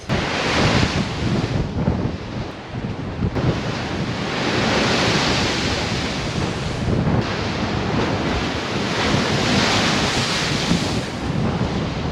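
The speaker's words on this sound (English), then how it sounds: "I'm not sure if you can hear me or not over this wind" Strong, continuous wind roars by the sea, buffeting the microphone, with crashing surf rumbling underneath throughout.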